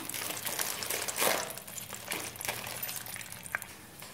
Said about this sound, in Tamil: ரொம்பலாம் முந்திரி பருப்பாக வறுக்க வேண்டாம்.